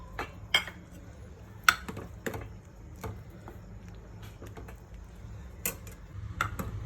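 A spoon stirs dal with chillies and coriander in a pot, giving scattered light clinks and taps against the metal at close range, with no one speaking.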